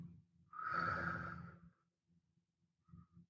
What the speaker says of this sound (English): Let's take another deep breath together. In and out.